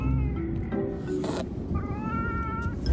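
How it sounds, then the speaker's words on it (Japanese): Several cats gather around a motorbike, meowing and caterwauling in overlapping, drawn-out cries, close and fairly loud against outdoor background noise. "猫に囲まれちまった。"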